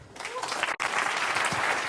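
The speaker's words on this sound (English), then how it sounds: "Let's applaud him." Audience applause fills a conference hall after a speaker is introduced for a FOSDEM 2017 talk on 64-bit bare-metal programming; steady dense clapping with a very brief dip partway through.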